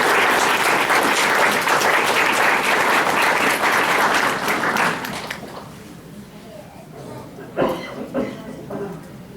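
Loud crowd applause fills a comic-con cosplay contest hall for about five seconds, then fades into scattered claps and murmuring voices.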